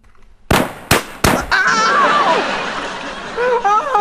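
Three sharp gunshot cracks ring out in quick succession in a comedy sketch, loud and close. A busy, noisy background follows with warbling whistle-like tones.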